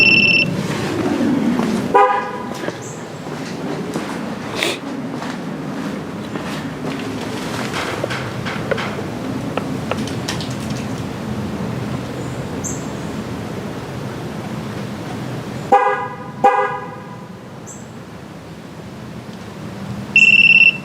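A truck horn gives short toots at the start and again near the end during a tire pressure sensor relearn, with quiet background rumble, wind noise and scattered clicks between the honks.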